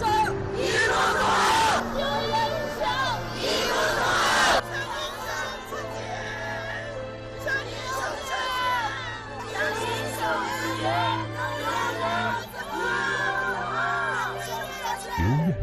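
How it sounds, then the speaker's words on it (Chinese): A large crowd packs a wide street, traffic crawling through, and its excited shouting and cheering forms a dense, continuous hubbub of many voices, loud and close throughout, with brief louder swells. "人群中不时传来阵阵激动的呼喊"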